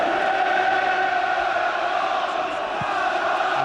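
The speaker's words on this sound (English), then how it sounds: "They have made an incredible noise, the Anfield crowd" Anfield crowd at a Liverpool v Barcelona UEFA Cup semi-final second leg, a dense, steady roar of thousands of fans sustained loudly throughout without pause.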